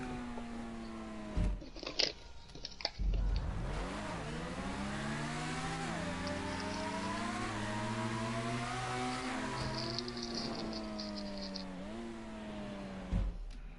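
A vehicle engine in GTA 5 revs up and holds a loud, droning tone with rising and falling pitch as it passes close by, after a few brief thumps at the start.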